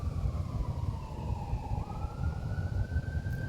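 A wailing emergency siren sweeps up and down in pitch at a moderate distance, over a low rumbling background.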